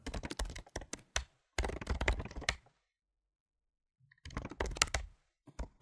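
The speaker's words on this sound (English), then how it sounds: "my keyboard sounds really nice" Rapid clicking of a computer keyboard as someone types code at a desktop, coming in dense bursts separated by short pauses, close and fairly quiet with no talking.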